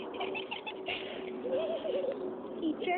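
A park pigeon coos softly and repeatedly close by, low rolling calls over faint outdoor background noise.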